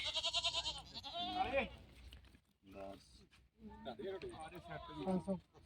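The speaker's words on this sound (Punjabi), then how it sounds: "ਕਾਲੀ ਬੱਕਰੀ ਫਿਰਦੀ ਆ ਇੱਕ ਆ ਬੱਕਰਾ ਇੱਕ ਆ" A goat bleats loudly at the start at a weekly goat market, with people talking over it and further animal cries mixed into the conversation.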